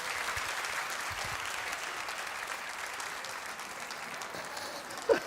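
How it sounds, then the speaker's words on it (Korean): A Korean church congregation applauds during Sunday worship, a soft, steady wash of many hands clapping heard from a distance, with a few louder bumps at the very end. "뜨거운 박수 맞아주시기 바랍니다."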